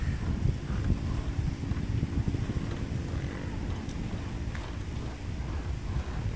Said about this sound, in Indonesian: Mungkin lagi anginnya lagi gede.